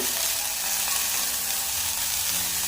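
Sliced bitter gourd (uchhe) fries in oil in a pan, giving a steady, dense, close sizzle that holds level throughout with no talking.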